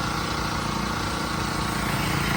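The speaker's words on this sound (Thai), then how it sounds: "เอาเครื่องตัดหญ้ามาลอกนะครับ ติดตัดหญ้าเดินบ้านนะครับ" A lawn mower engine drones steadily while cutting grass in a home yard, loud, close and continuous with no break.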